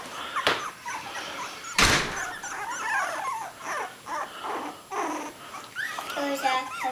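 Three-week-old puppies whimper, yelp and growl after being separated, in short high cries scattered throughout, with two sharp thumps early on and people talking nearby.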